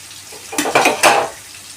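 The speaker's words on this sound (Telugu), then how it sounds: "సో ఆనియన్స్ వేగేలోపు బంగాళదుంపలు కట్ చేసుకుంటాను" Knife cutting potatoes on a board for soybean potato curry in a home kitchen, a few quick close, sharp chopping clacks in succession.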